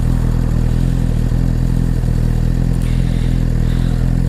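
A 2017 Suzuki GSX-R1000 sport motorcycle with a Yoshimura exhaust running loud and steady close by, a constant throaty drone with a faint rising whine near the end.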